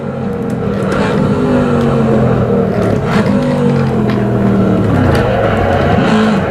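Corvette C7 Stingray in the Assetto Corsa racing game spins a donut, its engine roaring loud and steady with rising and falling revs and tire scrub throughout.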